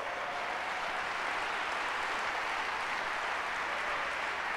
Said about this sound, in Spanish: Le damos un fuerte aplauso a Dios por esto.